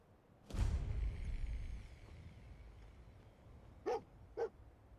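Dogmeat, the dog companion in the VR game Fallout 4, gives two short barks close together near the end, after a louder low rumbling burst; no one talks.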